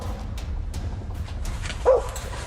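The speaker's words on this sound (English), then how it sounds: "a dog nearby the man filming starts barking" A dog near the camera in the woods barks once, a single sharp yelp at a moose standing close by, over quiet outdoor background noise.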